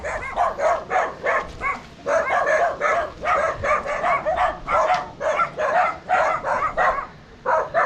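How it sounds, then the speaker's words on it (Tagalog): Many dogs bark together outdoors at close range, a dense, continuous chorus of overlapping barks and yips arriving in repeated bursts. "Yan guys, grabe ang daming aso."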